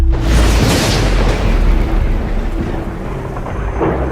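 An electrical storm in the game Icarus gives a loud, deep, sustained thunder roll that rumbles continuously and fades slightly before rising again near the end.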